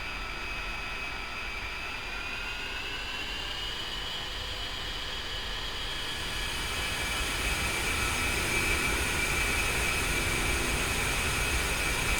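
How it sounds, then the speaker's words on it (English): Fighter jets, F-15s, landing in a flight simulator game, heard as a steady roar of engine noise with a high whine that thickens and grows louder in the second half. "Got some F-15s landing out there to my left."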